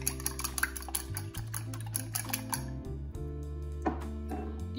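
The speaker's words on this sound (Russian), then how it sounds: "Разболтаю." Two eggs beaten with a utensil in a bowl, a quick run of close tapping clinks against the side, then slower scattered taps over a steady low background hum.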